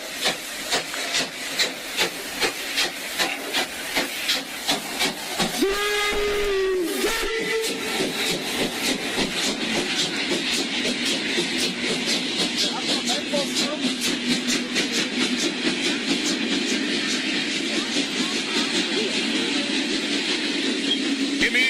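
A steam locomotive chuffs in a rapid, regular rhythm, then gives a loud whistle and rumbles on past, with hissing steam and clanking continuing close by.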